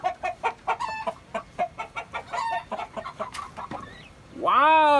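A small bantam chicken clucks in a quick, close series of short notes, ending with a louder drawn-out squawk.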